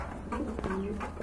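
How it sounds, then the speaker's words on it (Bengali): A pair of pigeons coos softly in low, throaty bursts, with faint chatter and background noise around them at a pigeon market. "খুবই চমৎকার এক জোড়া কবুতর"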